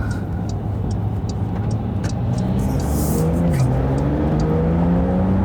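A four-wheel-drive car accelerates away over a rough road, its engine revving steadily and loud with rising pitch sweeps as it pulls, continuous throughout with faint ticking above.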